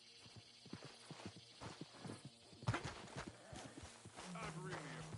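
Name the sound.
horse hooves clip-clopping in Red Dead video game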